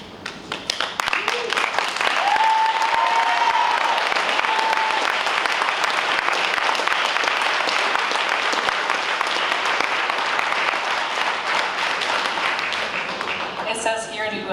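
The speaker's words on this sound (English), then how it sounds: "It says here to please give them a round of applause" A high school graduation crowd gives the class of 2022 a long, loud, dense round of applause, with a few cheers rising over the steady clapping.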